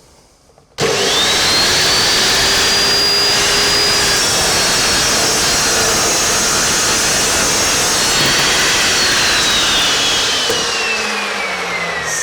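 An Evolution saw cuts through a piece of angle iron with a loud, harsh, steady cutting whine that starts abruptly, holds for about ten seconds with a sliding tone, then winds down.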